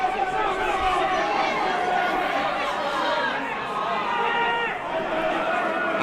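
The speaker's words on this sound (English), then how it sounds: "And the crowd are going mental." A packed rugby crowd roars continuously at an All-Ireland League night match between Lansdowne and St. Mary's, a loud sustained wall of cheering with shouts rising over it.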